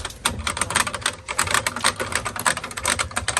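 Rapid, uneven clacking of keys on an old typewriter-like machine aboard a Handley Page Victor aircraft, with dense bursts of crisp strikes at close range and no talking.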